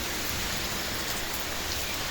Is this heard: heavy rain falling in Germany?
yes